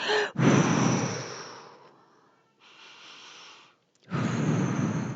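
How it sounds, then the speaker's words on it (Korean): A person takes a deep breath in and lets it out slowly. Breathy rushes of air sound close to the microphone, a long one followed by a softer one and then another strong one, with no words. "꽃 향기를 맡듯이 깊이 숨을 들이마시고 바람개비를 불듯이"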